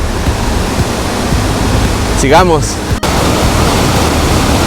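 Water cascades steadily over small falls of one and a half to two metres at Las Tres Tzimoleras, a loud continuous rushing roar, with a brief spoken word and a passing whistle-like sound over it.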